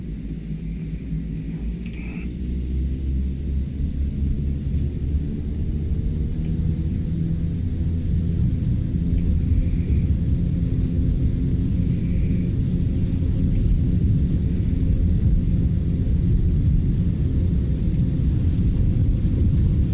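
A CL-415 water-bomber aircraft takes off in Microsoft Flight Simulator 2024 on a wildfire mission over Sequoia. A loud, steady engine roar and rumble builds gradually and holds for the full length, with no talk.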